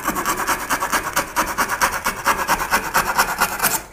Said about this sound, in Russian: Пила по дереву.